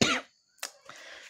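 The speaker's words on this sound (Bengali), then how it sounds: "কাশি হয়েছে, শরীরটা খারাপ আছে" A person with a winter cold gives a single sharp, close cough, followed by a short pause and a softer raspy throat sound.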